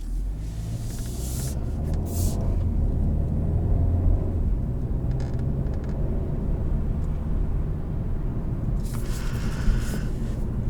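A 2021 Kia K5 EX with front-wheel drive rolling along a road, heard from inside as a steady low engine and road rumble with a few brief louder hisses of passing noise.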